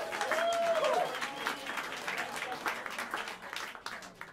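Applause at Smalls Jazz Club in New York City for a trio's upright bass player, many hands clapping at moderate loudness with a voice briefly over it early on, then tapering off.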